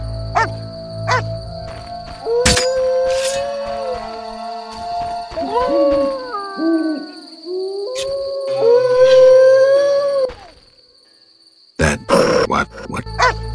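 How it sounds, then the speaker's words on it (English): A dog in The Witcher video game gives several drawn-out howls and growls in bursts, loud and close, with game sound effects around them and no talk. "That dog seems to be looking for something."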